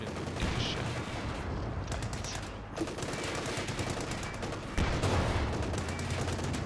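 Gunfire crackles in a World War II video game set during the Battle of Caen, rapid repeated shots and bursts of automatic fire at a steady, moderately loud level, with someone briefly speaking over it.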